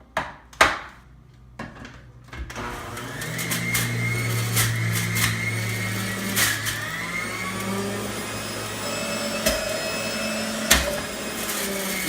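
A juicer whirs as juice is made, a steady mid-pitched motor drone after a few sharp knocks at the start, close and fairly loud, with scattered clicks and rattles and no voices.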